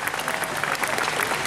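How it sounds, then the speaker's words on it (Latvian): An audience applauds a performer at a Latvian stage show, a short burst of dense, even clapping, moderately loud with a faint crowd murmur beneath. "Sagaidām ar aplausiem Mārtiņš Ruskis."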